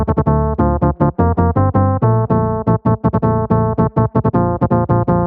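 An ethereal synth chord layered over a sub bass plays a quick rhythmic pattern of short, punchy stabs that change notes. The sound is loud and close, with no voices.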